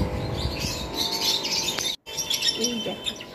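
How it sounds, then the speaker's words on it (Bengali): Small caged birds in a shop that also sells fish, including yellow ones, chirp and tweet in quick bright bursts over a steady background hum; one short gap interrupts the sound. "এই দেখো পাখিগুলো"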